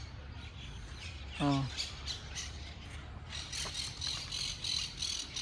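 Birds call from nests hidden among dense leaves, including a crow: a brief, loud squawk near the start, then scattered chirps and tweets over an outdoor hiss, with a short spoken exclamation.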